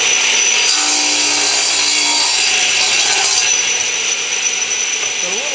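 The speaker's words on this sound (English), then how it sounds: "And now we can cut the board to length." A wooden board being cut to length with a saw in a woodworking shop, loud, steady rasping strokes that run close and continuous for several seconds, with no voices over it.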